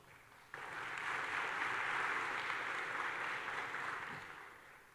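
Applause from the audience on a North Carolina conference main stage rises suddenly to a steady, full roar of clapping, then tapers slightly toward the end, with no voices above it.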